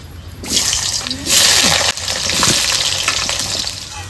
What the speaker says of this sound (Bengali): এবার আলু ভেজে নেব কড়াইতে তেল দিয়ে দিচ্ছে